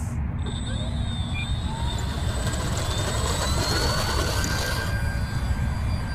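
An E-flite Spitfire Mk XIV RC model plane, 1.2 m, takes off under a continuous loud electric motor whine that holds and rises steadily, with a low rumble of wind underneath.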